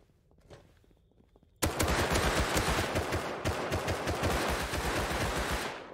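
Rapid automatic gunfire in the survival game Rust, underground near a train cockpit, erupting suddenly after a quiet moment and continuing as loud, dense bursts of shots to the end.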